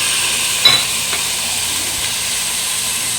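Chicken dropped into a frying pan of sizzling onions, a steady hiss and sizzle with a small splash at the moment it goes in and faint stirring afterward.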